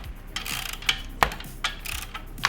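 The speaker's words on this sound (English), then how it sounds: "We're gonna go back underneath and tighten the clamp." Wrench tightening an exhaust clamp underneath a Ninja ZX6R motorcycle, a run of close metallic ratcheting clicks and sharp taps at an uneven rhythm, moderately loud with no speech.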